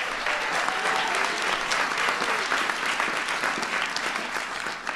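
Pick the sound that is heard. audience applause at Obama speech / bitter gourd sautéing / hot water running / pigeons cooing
audience applause at Obama speech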